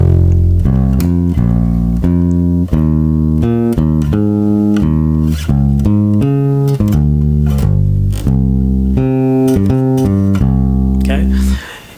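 A plucked bass plays a steady two-feel line as an early stage of a walking bass line, mostly long notes on beats one and three with a few extra pickups, loud and clear with no talking.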